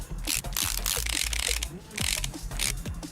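A ratchet clicks rapidly in bursts while bolts are tightened to seat a cylinder head on a Jeep Willys military-edition engine in Car Mechanic Simulator 2018, with mechanical whirring and short gaps between runs.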